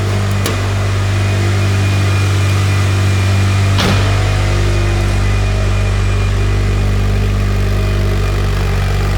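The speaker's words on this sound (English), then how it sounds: "we'll hop out, let you hear the car from the back" Mitsubishi Lancer Evolution 7 GSR heard from behind the car, its engine idling as a steady low, mid-pitched drone with a faint whine throughout, not overly loud, briefly marked by two short clicks.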